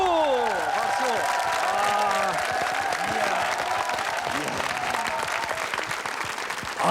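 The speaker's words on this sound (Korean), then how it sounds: "박수! 박수!" A studio audience applauds loudly and continuously on a Korean TV variety show, and a speaking voice and some cheering rise over the clapping.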